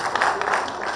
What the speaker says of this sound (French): Ouh, applaudissez pour lui.